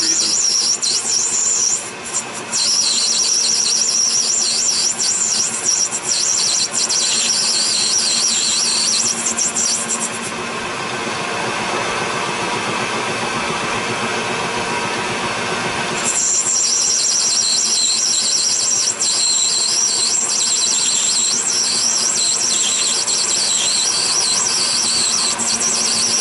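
An Enco 9x20 metal lathe cuts aluminum bronze with a steady, loud, high-pitched squeal that runs for long stretches. The squeal eases to a lower grinding tone in the middle and then returns, with no one speaking.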